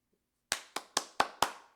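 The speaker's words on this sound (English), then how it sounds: "Everybody applauding." Five crisp hand claps sound in a quick, even sequence after a brief silence, close and dry with no crowd behind them, more like one person clapping than a full audience.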